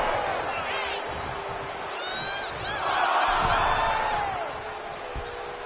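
A wrestling arena crowd in the WWE 2K25 video game roars and cheers in a continuous wash of noise that swells midway, with whoops and shouts rising above it and a commentator talking throughout.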